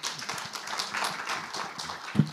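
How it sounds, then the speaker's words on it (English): A panel audience bursts into applause: dense, steady clapping from many hands throughout, fairly close and fading a little toward the end. "It's not often that a panel ends with spontaneous applause"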